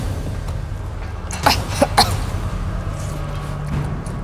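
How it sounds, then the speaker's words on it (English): A person coughs a few times after tasting a very spicy, hot-temperature dish, with two or three short sharp bursts close by over a low room hum. "Are you coughing?"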